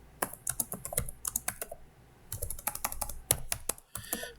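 Rapid keystrokes clatter on a computer keyboard in uneven bursts, a brief pause splitting two flurries of close, crisp clicks, with no voices.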